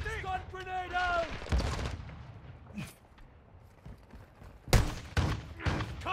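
Shotgun blasts go off in the Call of Duty DMZ video game, sharp booming shots spaced a few seconds apart, with players talking over voice chat and heavy bass thuds in between.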